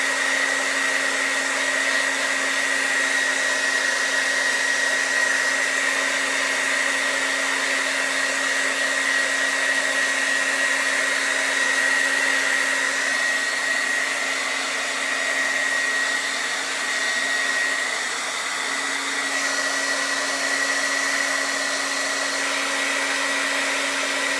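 A heat tool runs continuously while heat-setting ink on fall decor, a steady close blowing whine with a constant hum that holds for the whole stretch with no talk over it.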